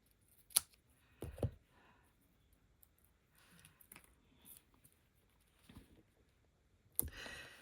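Scissors snip a small piece of paper for a stamped two-tone card, a few brief dry cuts and clicks spaced apart in a quiet room.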